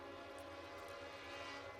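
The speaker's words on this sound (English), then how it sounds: "It's the freight train." A distant freight train passes during an outdoor book festival, its horn a faint, steady drone over a rumbling background.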